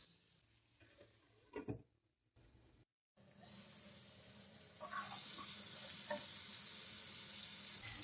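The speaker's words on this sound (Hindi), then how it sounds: "अब हम इसमें 2 अदद टमाटर ऐड करेंगे जिनको मैंने रफली कटिंग कर ली है।" Roughly cut tomatoes cook with potatoes and capsicum in a pan, a quiet start of clatter and handling giving way to a steady, louder sizzle that fills the second half, with no talking.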